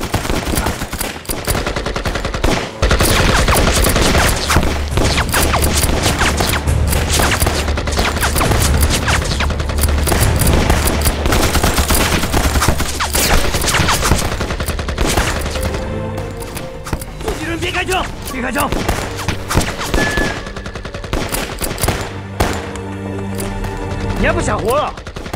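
Sustained gunfire in a war film set in an anti-Japanese battle, dense rapid machine-gun bursts and rifle shots rattling loud and continuous for most of the stretch, mixed with dramatic film sound and some shouting voices.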